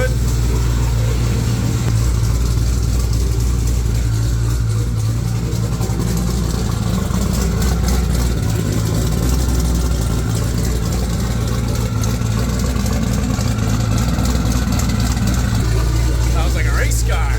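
A 1200 hp twin-turbo Corvette Z06 with a custom exhaust idles loudly and continuously, a deep steady rumble that swells slightly with light throttle throughout.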